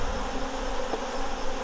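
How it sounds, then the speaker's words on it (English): Honeybees buzz steadily during an August hive inspection after being shaken into a cup, a continuous droning hum at moderate level with no voices. "let the old bees fly out."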